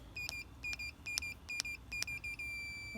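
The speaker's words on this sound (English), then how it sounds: "now it goes into this permanently long beeping" A Trimark keyless entry keypad on a Newmar motorhome emits a regular series of short, bright electronic beeps, about six in quick rhythm, then settles into one long continuous tone, heard close and fairly quiet.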